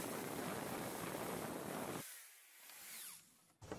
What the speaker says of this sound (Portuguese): Eu venho com a furadeira aqui, eu estou usando uma broca de 2 milímetros, furo aqui